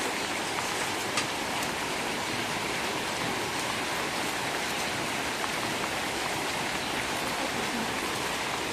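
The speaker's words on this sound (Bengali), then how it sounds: "বৃষ্টি আজকে ছাড়বে লাভলি মনে হয় লক্ষণ নাই বৃষ্টি ছাড়ার আজকে" Steady, even rain pours down without pause, a dense close hiss of drops striking surfaces that holds at the same level throughout.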